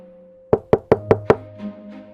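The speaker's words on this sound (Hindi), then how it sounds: "तभी दरवाजे पर जोरदार दस्तक हुई।" Loud knocking on a house door: five sharp, evenly spaced raps in quick succession, close and clear, followed by quiet room tone.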